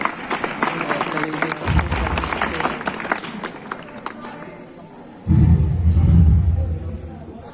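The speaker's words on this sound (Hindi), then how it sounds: "ताली मारो बे।" An audience at a school speech event claps. A burst of applause and crowd noise rises near the start, fades, then returns louder near the end with a low rumble.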